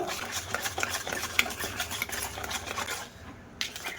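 Eggs and powdered sugar whisked together in a bowl for biscuit dough, a quick, close, rhythmic scraping and clinking of utensil on the bowl that pauses briefly near the end, with no talk.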